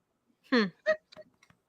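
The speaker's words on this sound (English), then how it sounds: "Hiccup. Yes, I have hiccups." A single hiccup bursts out during a casual conversation, loud and close, followed by a few softer, brief vocal sounds.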